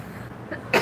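A person coughs once, a short close burst at the very end after a quiet stretch of room noise.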